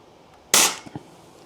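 One sharp, loud shot from a Langley Pro Sniper air rifle that has a low-power problem, followed by a couple of faint mechanical clicks and then quiet.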